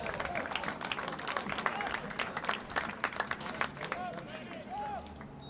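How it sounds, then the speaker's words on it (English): Applause and cheering from the home crowd at an outdoor men's soccer match between Chicago House AC and Bavarian United, a moderate rolling clatter of claps at mid distance, mixed with field noise and a commentator talking throughout. "Roaring applause from the Chicago House crowd."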